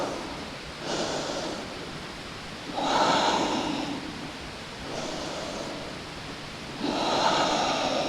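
Slow, deep breaths in downward facing dog during a vinyasa yoga flow: about four airy inhales and exhales that swell and fade in turn, close and fairly loud, with no talking.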